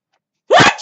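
A storyteller's voice imitates one big sneeze, a sudden loud burst after silence that lasts under half a second.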